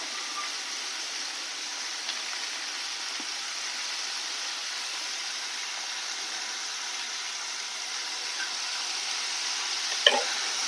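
Green capsicum and finely cut cauliflower stir-fry in a hot pan as a filling for momos. A steady, even sizzle hisses continuously, with a few faint clicks near the end.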